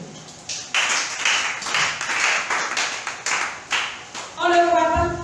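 A church congregation claps in steady rhythmic beats to acclaim the Lord, a loud, close series of claps ending with a sustained tone.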